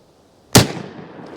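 A single sharp .357 Magnum shot from a lever-action rifle fired into ballistic gel, a loud close crack followed by a fading outdoor echo.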